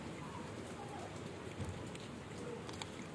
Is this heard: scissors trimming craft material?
no